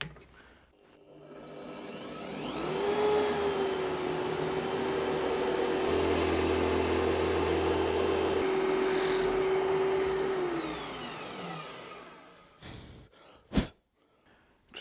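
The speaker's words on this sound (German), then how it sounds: "Und jetzt werden wir nämlich mit dem 6er Bohrer durchbohren." Power drill with a 6 mm bit bores through a workpiece for a compact mobile router table fitted with a Kreg insert plate, a steady high whine that ramps up, holds for several seconds, then spins down, followed by brief clicks.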